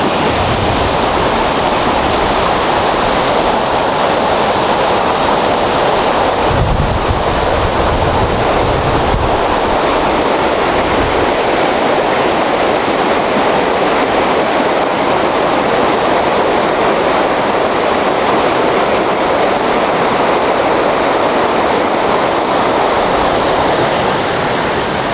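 Steady rushing water from a waterfall fills the scene on an outdoor walk, a dense continuous roar with some wind buffeting the microphone, constant and fairly loud throughout with no voices.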